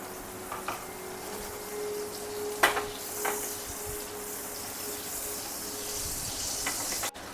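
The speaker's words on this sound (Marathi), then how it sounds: "भाजीला फोडणी देण्यासाठी मी इथे पॅन गरम करून त्यामध्ये तेल देखील घालून घेतलेलं आहे यामध्ये थोडंसं बटर घालून घ्यायचं" Butter melts into hot oil in a pan for a tempering, making a soft, steady sizzle and hiss with a few light clicks of utensils and a faint tone, with no one talking.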